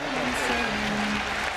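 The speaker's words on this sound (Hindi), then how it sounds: "डॉक्टर जाकिर नाइक साहब का भरपूर तालियों में इस्तकबाल कीजिए" A crowd at a welcome event for Dr Zakir Naik bursts into dense, continuous applause, with a voice audible over the clapping.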